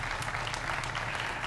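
An audience at a tribute to John Graves breaks into dense, steady applause, with many hands clapping continuously and close for the whole short stretch.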